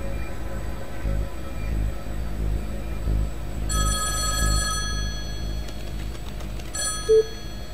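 A telephone rings on speaker ahead of an expected call, with two short bell-like ring bursts over a low, steady room hum and no talking.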